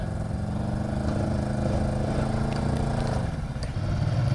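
A Can-Am Renegade XMR 1000R quad's engine runs steadily up close, a loud, continuous rumbling idle that dips briefly near the end before picking back up.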